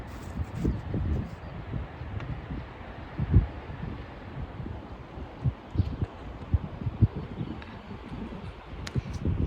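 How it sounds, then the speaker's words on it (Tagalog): Moderate outdoor wind near a river in springtime, buffeting and rumbling low against the microphone in uneven gusts, with faint rustling and no talk. "humahangin siya pero hindi siya ganun kalakas"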